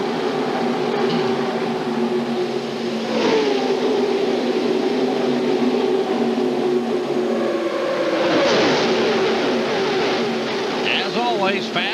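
NASCAR stock cars race at Talladega in a 1999 event, a steady roar of engines with passing whines and revving surges, under speech that comes and goes.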